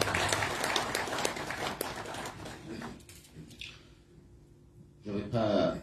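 An audience claps in applause after two guests are introduced at a formal event, a dense round of clapping that fades out and then swells briefly again near the end.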